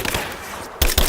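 Gunfire in the video game Rise of the Tomb Raider: a short stretch of rattling noise closes with two sharp, loud shots close together.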